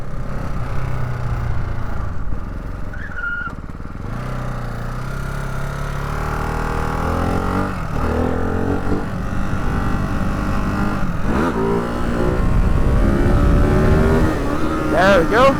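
A motorcycle engine hums and shifts pitch while riding at local pace, a steady drone with rising and falling revs, close and fairly loud, with wind buffeting from an open-face helmet and someone talking over it.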